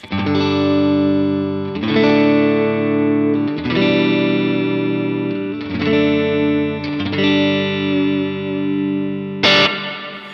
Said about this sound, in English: this is kind of just a normal reverb setting